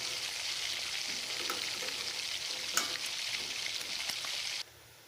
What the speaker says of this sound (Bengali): চিপসগুলো ভেজে নিচ্ছি।